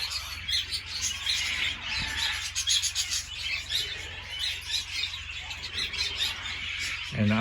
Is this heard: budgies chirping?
yes